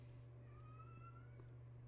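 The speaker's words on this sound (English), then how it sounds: "Oh, there's the crying kitty." A crying kitty meows in a faint, drawn-out wail inside the video game Secret World Legends, heard alone over a low steady hum from the game.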